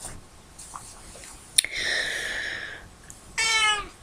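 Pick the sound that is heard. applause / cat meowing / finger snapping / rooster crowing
cat meowing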